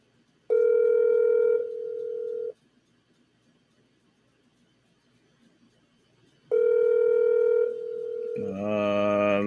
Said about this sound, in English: hopefully he answers the phone.